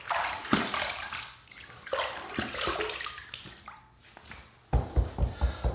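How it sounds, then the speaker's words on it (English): Bloom water from shaving soap pours and splashes into a sink basin in uneven bursts, with a run of quick gurgling splashes near the end; close and fairly quiet. "take a little bit of this bloom water here and just dump it in there"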